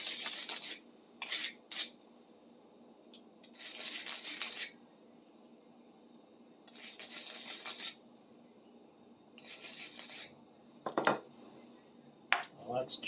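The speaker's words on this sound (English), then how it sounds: "Give it a quick brush." A brush scrubbing a clamp vise during restoration, several short bursts of rough bristle scrubbing separated by quiet pauses, close and fairly faint.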